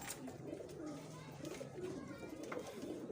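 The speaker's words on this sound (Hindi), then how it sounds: "ये ख़तंग कबूतर है हमारे" Soft, low cooing of Khatang pigeons repeats over a faint background of other birds and distant voices.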